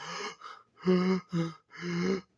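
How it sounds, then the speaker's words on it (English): A man gasps for air in a series of four or five loud, harsh, breathy intakes, each with a strained vocal tone, separated by short silences. "I can't be the only one that hears this man gasping for air every time he makes these videos."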